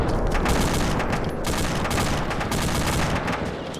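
Sustained heavy gunfire in ArmA 2 from a tank or machine gun, a loud continuous fusillade of rapid shots and rumbling blasts with no pauses, close and dense throughout.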